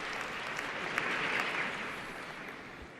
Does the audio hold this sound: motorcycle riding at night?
no